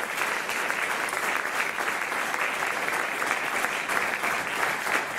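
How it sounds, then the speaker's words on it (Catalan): Audience applause at a Catalan book presentation marking 50 years of Òmnium Cultural, a sustained, even wash of many hands clapping indoors, moderately loud and uninterrupted for the whole stretch. "Deixeu-me, si us sembla, començar l'acte amb un fort aplaudiment pel Francesc Xammar, per l'Olga Xirinacs"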